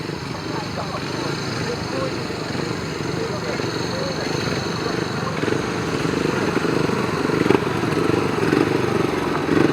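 A pack of 500cc racing sidecar motorcycles drones steadily at a distance at a race meeting, the engine buzz swelling slightly toward the end beneath an announcer's voice.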